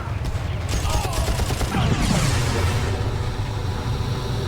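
A loud, sustained explosion roars through the Far Cry VR video game, a dense rumbling blast with crackling debris filling the whole stretch without a break.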